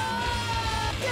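An animated character lets out a loud, sustained yell, a strained bellowing scream that holds for about a second and fills the space on its own.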